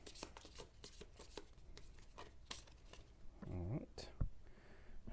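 Playing cards for a solo board game are riffled and shuffled up close in quick rapid bursts of crisp snapping flutters, followed by a softer sliding rustle and a light thump as the deck settles, with no talk.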